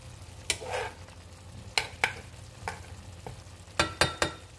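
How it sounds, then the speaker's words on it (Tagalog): Galunggong fish laid into a hot pan for adobo, giving several sharp spitting bursts over a steady low frying hiss, the loudest crackles clustered near the end. "Dagdagan na natin ng isda."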